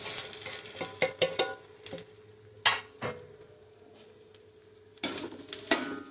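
Sesame seeds roasting in warm ghee over a low flame, with a spoon scraping and stirring them in a pan in several quick bursts, soft crackling sizzle underneath, close and fairly quiet with no talk.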